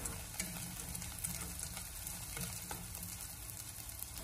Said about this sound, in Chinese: 油热以后下切好了姜和葱，用小火给它翻炒一下，把姜葱给它炒出香味